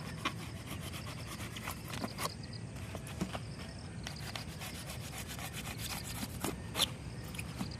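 Steady rough rubbing and sawing, like a blade working through soft material to shape a float for a river fishing net, continuous and close with a few sharper scrapes.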